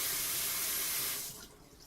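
Hot water is poured into an instant noodle cup, a steady close hissing stream that tapers and stops after about a second and a half, leaving faint room noise.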